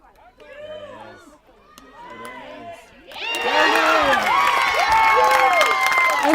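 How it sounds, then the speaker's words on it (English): Crowd at a girls' varsity softball game, Linn-Mar vs Liberty, swelling into loud cheering and shouting after a few seconds of commentary, with the announcer's voice continuing over the excited spectators. "lots of excitement here in the crowd"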